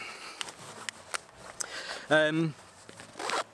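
A zipper on an Able Carry Daily Plus backpack with a storm flap gives one quick rasping pull amid soft handling noises and light taps, close and clear, with no talking over it.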